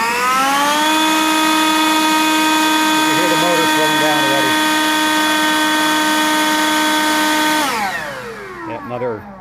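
A Harbor Freight Lynxx 40V cordless brushless leaf blower, model 63284, runs on a nearly dead battery: a loud, steady high-pitched motor whine with strong harmonics holds for several seconds, then winds down as the motor shuts off.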